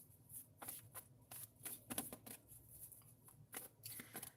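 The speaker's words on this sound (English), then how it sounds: "So I've been sitting shuffling these cards," Tarot cards being shuffled close up, a quick series of crisp riffling bursts and soft slaps, quiet and without talking.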